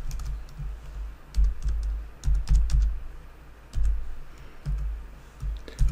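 Someone types a password on a computer keyboard in short, irregular bursts of close, crisp key clicks separated by brief pauses.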